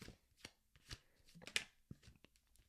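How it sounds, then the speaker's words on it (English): Tarot cards shuffle by hand in soft, irregular bursts of riffling and sliding, close and quiet, with a few sharper snaps between short pauses. "I'm going to shuffle a little bit more and then we'll get into what the cards are."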